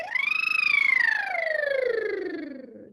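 A voice buzzes the lips in a trill, rising briefly then sliding steadily down in pitch, imitating a siren, close and sustained.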